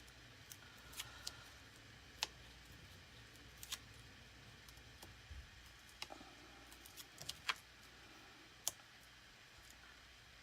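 Paper backings are peeled off chalk transfer pieces, giving sparse, faint, crisp clicks and crinkles scattered irregularly over a quiet room background.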